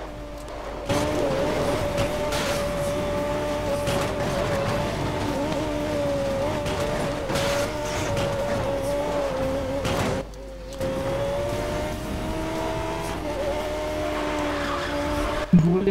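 Race cars in the Need for Speed Most Wanted video game drive in a multiplayer session, with a steady engine drone holding for the whole stretch, shifting pitch as they accelerate, and a brief dip near the end.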